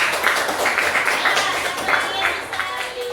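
Children and a mother clap their hands together in a classroom, with steady, continuous applause under talking voices throughout.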